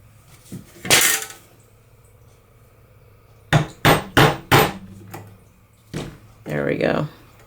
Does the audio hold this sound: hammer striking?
yes